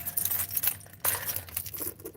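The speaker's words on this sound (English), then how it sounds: "Keys, those were in the ignition." A set of car keys, taken from the ignition, jangles close by in quick bursts of bright metallic clinking, a sharp rattle near the middle, with no voices.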